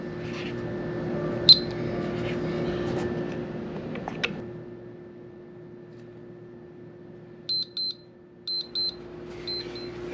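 A kitchen oven timer signals the end of baking a beef and salsa biscuit bake at 350 degrees: after a quiet stretch, several short high electronic beeps sound in clipped pairs and triplets near the end.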